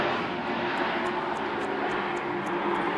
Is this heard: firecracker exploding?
no